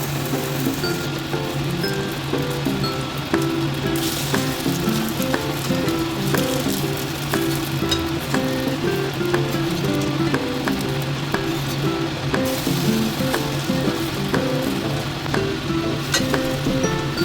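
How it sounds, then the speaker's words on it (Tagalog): A carrot and egg mixture fries in a pan with a constant, dense crackling sizzle that holds steady and close throughout, dotted with sharp pops and no voices. "So, iprito pa rin natin yan."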